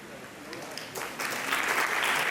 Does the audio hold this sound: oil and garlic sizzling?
no